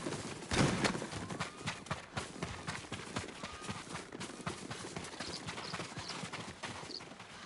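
Horses' hooves clip-clop in the video game Ghost of Tsushima, a steady run of close, rhythmic hoofbeats for several seconds with an occasional snort, over faint ambient background and no talk.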